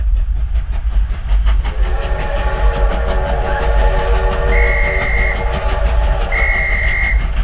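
Ghost train theme park ride at Thorpe Park: a loud, steady rumble and rhythmic clickety-clack of rail cars, with two sustained high whistle tones sounding near the end, no talk.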